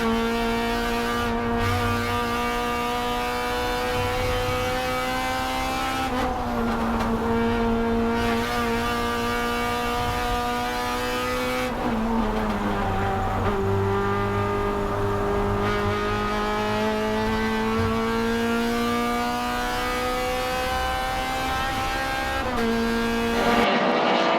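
Race cars in a sim racing game battle for third on the final lap at Autobahn, their engines droning loudly and steadily the whole time. Pitch sweeps up and down as they accelerate and shift.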